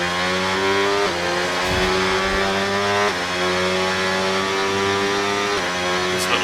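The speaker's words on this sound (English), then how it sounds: "the engine noise, that is." Race car engine from a Project Gotham Racing session at Abu Dhabi, a loud, steady droning whine with harmonic bands that dip and climb as gears shift, running continuously throughout without talk.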